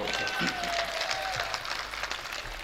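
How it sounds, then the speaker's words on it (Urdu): Audience applause at an Urdu poetry recital (mushaira) in Konch, a steady wash of clapping from a crowd, fairly soft and continuous, with a faint tonal whistle or feedback line running underneath. "بہت شکریہ، تالیاں بجائیے گا"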